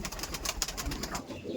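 A Giribaz pigeon offered for sale coos close by, its soft low murmuring steady through a brief moment with no talk over it.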